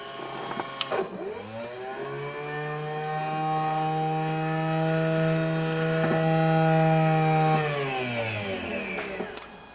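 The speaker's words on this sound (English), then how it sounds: "the noise you hear is the electric antenna" The electric antenna motor on a Mercedes-Benz Pagoda whines steadily for several seconds as the antenna retracts, a close mechanical drone that slowly rises in pitch and then cuts off with a small click.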